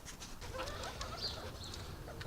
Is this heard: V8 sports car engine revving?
no